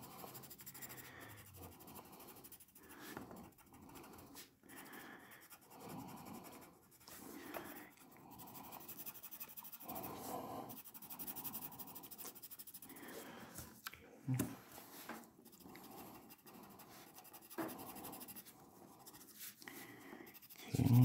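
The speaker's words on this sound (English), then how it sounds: "So now I'm going to go ahead and take my orange colored pencil." An orange colored pencil scratches and rubs across paper while coloring in a drawing, with soft, irregular strokes and brief pauses, fairly quiet and close.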